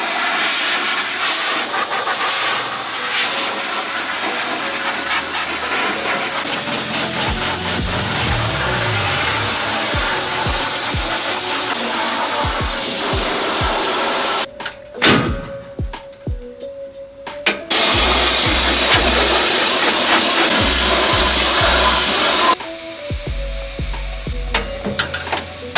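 Abrasive blasting of a Honda NSX body shell, a loud continuous hiss of blasting media with a rumbling compressor underneath, cutting out briefly midway before resuming at full force.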